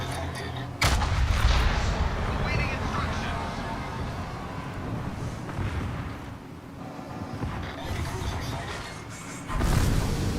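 Naval gunfire aimed at a battleship in a video game, heavy booming shots with low rumbling blasts and lingering roar, a sharp loud report near the start and another near the end, with water and engine noise between.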